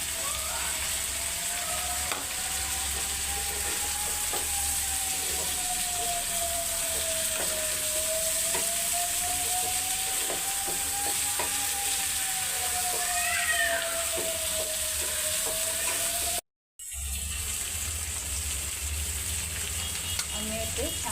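Chicken and spice paste fry steadily in a pan for a Maharani chicken dish, a constant close sizzle with a faint tonal hum, broken by a short silent gap before the frying resumes.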